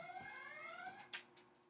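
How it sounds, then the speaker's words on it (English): An alarm clock rings indoors with a rising electronic melodic tone sequence, fairly faint, followed by a couple of soft clicks or taps as it is silenced; no talking. "Sorry, that was my alarm."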